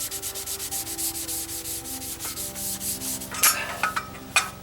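A barbecue grill scrubbed clean with a cleaning tool, producing rhythmic rasping strokes in quick back-and-forth succession, close and fairly loud, ending with a few sharper scrapes.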